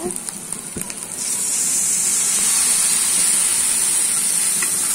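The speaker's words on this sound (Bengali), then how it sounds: "দিয়ে আমি মশলাটা ভালোভাবে কষিয়ে নেব।" Spices frying with onion in a pan after a splash of water, with a loud continuous sizzle and steamy hiss that swells after a few faint stirring clinks.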